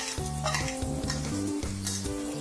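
Green chillies and coriander leaves sauté in a pan for nonbu kanji, with a steady close sizzle and repeated scraping strokes of a spoon stirring against the pan.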